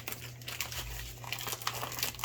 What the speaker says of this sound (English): I'm going to reuse my Ziploc bag.